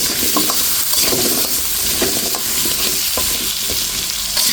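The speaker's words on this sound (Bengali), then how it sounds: "আলুটা কিন্তু লাল লাল করে ভাজা হচ্ছে" Potato pieces fry in hot oil with salt and turmeric while being stirred, a dense, steady sizzle with occasional scraping, close and loud, with no talking.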